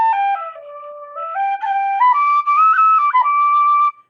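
A bright, clear 3D-printed tin whistle, a copy of an O'Riordan, plays steady tones that step up and down in pitch, sounding loud and close with no talking.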